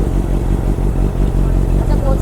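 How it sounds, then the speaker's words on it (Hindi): Honda CBR650 motorcycle engine running at close range, a steady low throbbing idle with a slight rise in revs, heard loud and alone. "तो गाइज़ बाइक थोड़ी सी कर दिया स्टार्ट"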